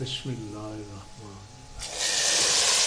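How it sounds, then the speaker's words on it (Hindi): Hot oil tempering with browned onion for beef paya bursts into a loud, hissing sizzle that carries on to the end, right after someone speaks a short phrase. "अब हम इसमें तड़का लगाएंगे"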